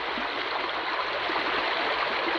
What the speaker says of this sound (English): I'm going to be putting our bucket of concentrates through our sluice.